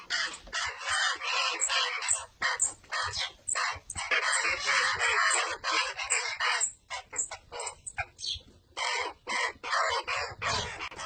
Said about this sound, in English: These baby ravens have grown a lot in a couple of weeks. Here, they are eager to eat.